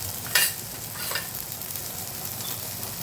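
Turmeric, red Byadgi chili powder and garam masala frying in a pan for idli sambar, with steady soft sizzling and a couple of brief stirring scrapes near the start, no talking.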